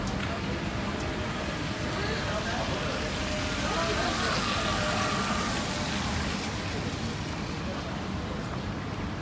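Steady night rain near Senso-ji Temple in Asakusa, Tokyo, a dense even hiss of drops on pavement and surfaces that holds constant throughout, with faint background murmur.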